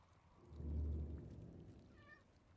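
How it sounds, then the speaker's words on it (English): A domestic cat gives a single short meow, faint and somewhat distant, after a low rumbling background swell, with no talk over it. "my cat just fucking meowed"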